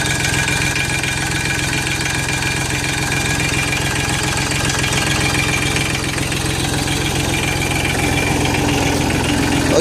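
A Mahindra Max 24 compact tractor idles with its engine warmed up, a loud, steady, close mechanical chug with a fast even knock that holds unchanged throughout.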